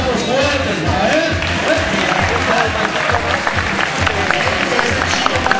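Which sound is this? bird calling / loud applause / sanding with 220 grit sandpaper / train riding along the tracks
loud applause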